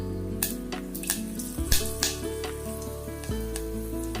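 Curry leaves crackling in hot oil in a pan while making horse gram rasam, a close, steady sizzle with scattered sharp pops and spits over a few seconds, with no talking.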